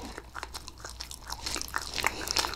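Someone bites into and chews strawberry cake close to the mic, giving soft, irregular wet crunches and smacking sounds over a quiet background.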